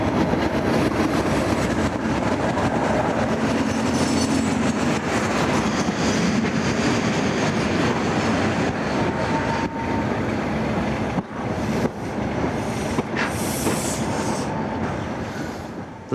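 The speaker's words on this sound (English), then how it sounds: "The overnight sleeper arrives from Glasgow to connect with a train to Malaig." An overnight sleeper train from Glasgow rumbles steadily for a long stretch, wheels clattering and squealing faintly on the rails as it rolls in on the West Coast of Scotland in 1996, loud and close throughout.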